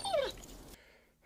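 A sick, weakening dog gives a short, high whimper that slides downward, followed by quieter muffled sound that fades out.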